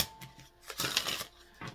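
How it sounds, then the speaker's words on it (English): Tarot cards riffle and shuffle in short soft bursts, with brief pauses between the flutters, close and fairly quiet. "I'm just doing some light shuffling here"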